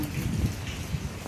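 Rain falls steadily on a surface outdoors, a soft continuous patter with low rumbling, moderately quiet and without talk.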